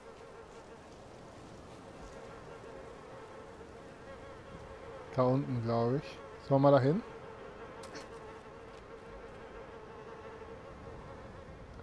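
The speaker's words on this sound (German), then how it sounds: "Ich höre Bienen!" Bees buzzing in the game Little Nightmares II, a faint continuous insect drone hanging in the background while someone speaks briefly over it partway through.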